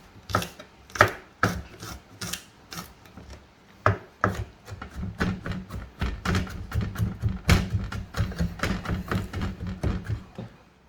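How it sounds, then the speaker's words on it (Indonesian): A knife finely minces garlic on a wooden board, starting with spaced, sharp chops that speed up into a fast, steady run of close thuds and taps. "Yang pertama ada bawang putih, kita rajang aja halus."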